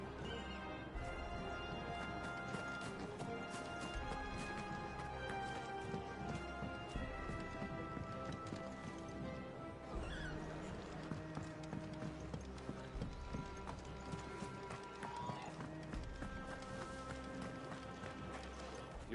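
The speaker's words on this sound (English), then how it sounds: "Your steed is in fine fettle" A steed's hooves clip-clop in the video game Final Fantasy 16, a soft, steady trot running the whole way under a continuous bed of game music, faint overall.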